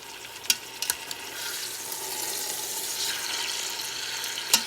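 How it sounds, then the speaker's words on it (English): Pork seared in a pressure cooker gives a steady, close sizzle and hiss throughout, with a few sharp clatters from the utensils near the start and one more near the end. "So we actually want to sear each side for about 2 minutes."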